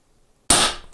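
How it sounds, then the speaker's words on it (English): An Evanix Viper .30 caliber semi-automatic PCP air pistol fires a single close, sharp, high-pitched crack after a moment of silence, with a short fading tail. "It's still got a little bit of a bark to it, uh, but it's more of a high-pitched crack now than that thunderous kind of thud."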